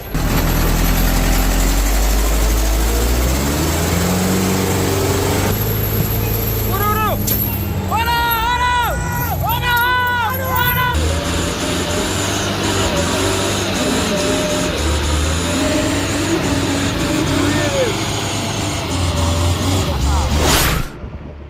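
A heavy truck engine labours on a slope over difficult terrain, a deep, steady rumble that holds throughout, with warbling whines and rising, straining tones partway through and a sharp noise near the end.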